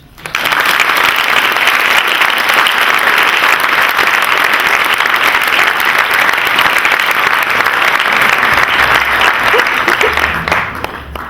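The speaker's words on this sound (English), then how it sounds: "let's give a big round of applause for our contestants" Loud, dense applause fills a hall for contestants at a college oratorical competition, rising quickly, holding steady for around ten seconds and then tapering off at the end.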